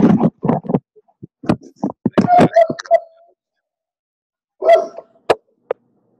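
A dog barks in short bursts, a rapid run of loud yips and woofs followed after a pause by a few more barks, heard nearby with no talk over it.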